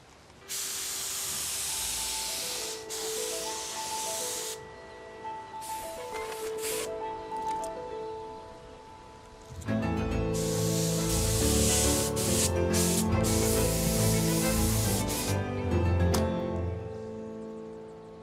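Roundabout parts, primed, sanded and keyed and hung on an outdoor washing line, get a red spray coat: loud hissing bursts start and stop repeatedly, with steady tonal sounds running underneath in the second half.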